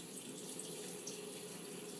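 A kitchen tap runs cold water over chopped onions in a sink, a steady close splashing hiss with no pauses for the full two seconds.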